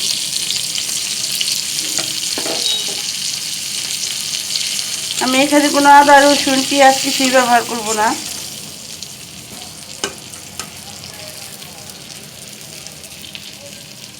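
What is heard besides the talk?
cauliflower frying with turmeric, chili and coriander powder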